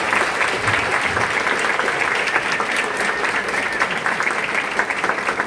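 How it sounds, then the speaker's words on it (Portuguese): Sustained audience applause at the close of a creative-industry talk, a dense, steady wash of clapping hands that stays loud and even from start to finish. "com uma salva de palmas"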